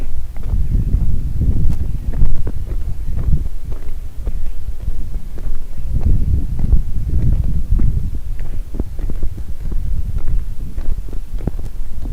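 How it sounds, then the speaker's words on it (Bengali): Strong wind blows outdoors in a village in Ekhlashpur, Begumganj, Noakhali, sweeping from one direction and buffeting the microphone with loud, continuous low rumbling gusts that swell and ease throughout, with no voices. "বাতাস"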